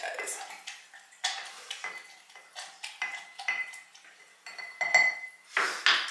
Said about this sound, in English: I'm going to throw 2 strawberries, 2 lemon wedges, and I'm going to muddle these guys.